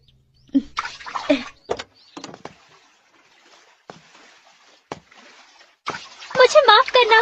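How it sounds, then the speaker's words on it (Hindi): Water splashes from a cartoon character washing their face, bursts of splashing and sloshing heard under overlapping dialogue, with louder splashing near the end. "मैं इसे मुंह धो लेता हूँ।"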